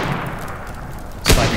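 A pistol shot in the voxel destruction game Teardown: a single loud, sharp report near the end, standing out against a low steady game background.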